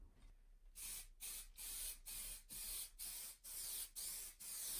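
Aerosol spray paint on tabletop terrain baseplate tiles, hissing in a series of short, even bursts with brief gaps between them, close and steady.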